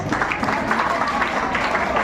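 Audience clapping at an international volunteer organization event in Sanathnagar, a steady dense patter of many hands filling the whole moment without pause.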